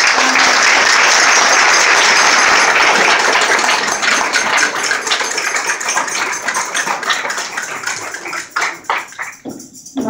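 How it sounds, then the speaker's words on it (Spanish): Loud applause from an audience at a Miss Hogar Extremeño pageant sash handover, dense clapping that starts full and strong, then thins into scattered, fading claps toward the end. "Sara, un aplauso."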